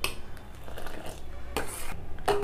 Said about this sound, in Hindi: दूध में उबाल आ चुका है, इसे चलाते रहेंगे।